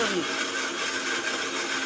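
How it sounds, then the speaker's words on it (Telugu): Mixer grinder whirring steadily as it grinds mango pieces for mango halwa, a loud continuous motor-and-blade roar that holds even for the full stretch. "నేను మిక్సీ ఆన్ చేస్తున్నాను, ఈ విధంగా గ్రైండ్ చేస్తున్నాను"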